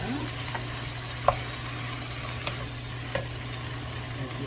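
Pork, shrimp, clams and squid stir-frying together in a pan, a quiet continuous sizzle over a low steady hum, with a few light utensil taps, no speech.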